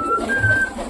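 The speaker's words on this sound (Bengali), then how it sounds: "চলো এবার আমরা সবকটা পায়রাকে খেতে দিয়ে দিই গাইস" Pet pigeons coo at feeding time, a soft close cooing with a thin whistle-like tone running over it, steady and continuous.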